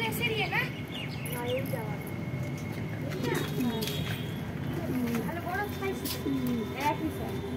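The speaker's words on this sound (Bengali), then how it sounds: "এখানেও রয়েছে পায়রা," A flock of around a hundred pigeons, kept alongside budgerigars, coos in soft, rounded repeated calls under a person talking steadily throughout, with faint chirps in the background.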